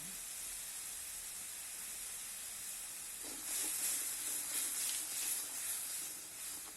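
Fish goes into hot oil in a pan and sets off a steady sizzling hiss that swells louder partway through, heard close up in a home kitchen, with no talking.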